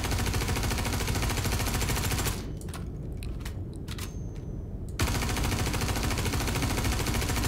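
Continuous heavy weapon fire on ships in a space combat video game, loud and steady, with a short drop in intensity midway before the barrage resumes at full strength.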